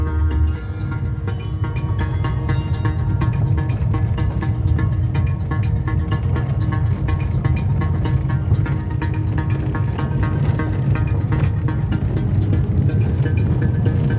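A car drives slowly along tracks in the snow, its engine a steady low throbbing hum from inside the cabin that continues with no break.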